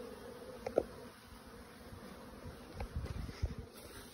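Low buzzing of bees drifts through a quiet outdoor scene, punctuated by a couple of brief knocks and rustles close by.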